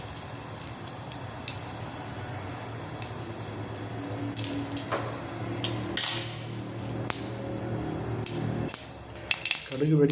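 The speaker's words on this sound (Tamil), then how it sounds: "கடுகு வெடிக்க ஆரம்பித்தோன்னே" Rapid irregular pops and crackles of mustard seeds spluttering in hot peanut oil, with scattered sharp snaps over a steady sizzle.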